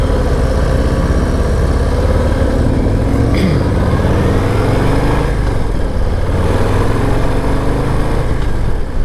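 Harley-Davidson Low Rider ST V-twin motorcycle engine drones steadily throughout a ride, loud and close, with rising and falling pitch as it shifts gears amid constant wind rush.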